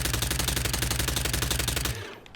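A Concept 5 automatic pistol in Hitman 3 fires a fast, even stream of loud clipped shots for about two seconds, then cuts off into a short fading tail.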